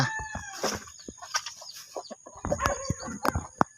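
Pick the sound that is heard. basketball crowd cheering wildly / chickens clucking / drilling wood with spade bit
chickens clucking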